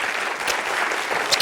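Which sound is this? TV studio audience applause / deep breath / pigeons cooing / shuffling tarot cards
TV studio audience applause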